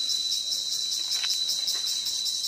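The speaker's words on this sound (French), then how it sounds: "Takatani, ce sont les cigales" Cicadas in a rainforest on Koh Samui give a continuous high-pitched shrill drone that pulses steadily and stays loud and close throughout, with no talking.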